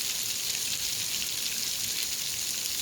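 Steady rain on a quiet mountainside makes a dense, even hiss that holds throughout without pause or voices.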